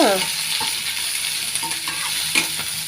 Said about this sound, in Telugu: కొంచెం కరివేపాకు కూడా వేస్తాను ఇవి కొంచెం వేగాక